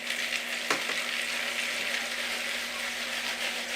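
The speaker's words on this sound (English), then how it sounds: "I am just mixing the oil all around all of the seeds here." Oil being tossed through pumpkin seeds in a bowl before air-frying gives a steady close wet swishing and sizzle-like rustle, with one brief clack and a constant hum underneath, no talk.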